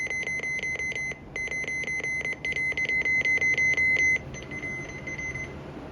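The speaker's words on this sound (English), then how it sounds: "This is literally all it does for a weekly test." Fast, repeated electronic beeps from a Midland 74-200 weather radio weekly test alert, sounding in steady pulsing runs with a short gap, then a softer tone trailing off.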